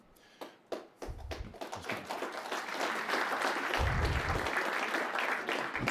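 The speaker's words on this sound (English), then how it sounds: "that was our Halifax area MPs who were applauding first" Applause from an audience at a conference plenary session begins with a few scattered claps and builds into sustained, fairly distant clapping from a large room.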